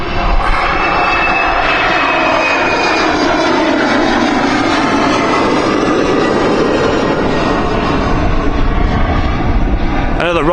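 A small Embraer 190 jet aircraft roars steadily at Amsterdam Schiphol Airport, a loud, continuous broadband engine rush with a faint rising whine that holds throughout.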